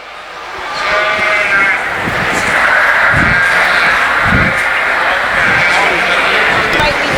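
Katahdin and Oxford sheep bleating at a sheep show, a dense, continuous chorus of bleats in a noisy arena with people talking throughout.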